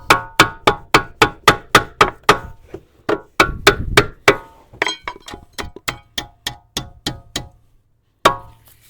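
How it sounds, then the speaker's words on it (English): Sharp metallic hammer blows strike a ball joint bolt in a fast, steady series, close and loud, pausing briefly midway before resuming and ending with one final strike. "push on the bolt and then hammer on the ball joint"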